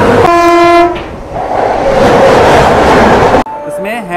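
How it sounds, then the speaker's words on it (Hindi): A Shatabdi Express train overtakes at speed, opening with a loud, close multi-tone horn blast followed by a roaring rush of passing carriages with rail rumble, ending abruptly as another voice-like tone briefly follows. "ओवरटेक करके जा रही है शताब्दी एक्सप्रेस ट्रेन।"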